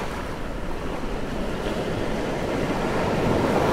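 Surf rolls steadily onto a shell sand beach in a coral conservation area, a continuous broadband wash of breaking waves with some wind, rising slightly toward the end.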